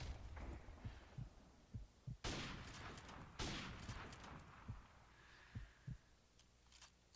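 Gunfire in Call of Duty: Modern Warfare Remastered, including an M14 rifle: a few sharp, loud shots with decaying tails among softer muffled thumps, no talking.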